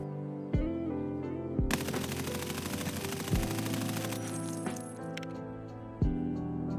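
Full-auto M4 rifle fire sprayed at a wall at 15 meters in Escape from Tarkov: a loud, dense rattle of rapid shots in a sustained burst of about two and a half seconds, with single heavier reports scattered around it over a steady game background.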